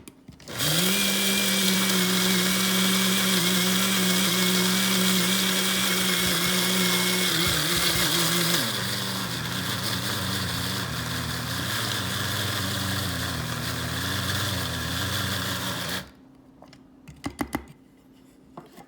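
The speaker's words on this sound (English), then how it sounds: "We still need to grind a little bit more to make it more smoother." An electric grinder whirs steadily as it grinds cardamom into powder, running loud and close for about fifteen seconds, shifting pitch partway through, then stopping abruptly before a few faint clicks.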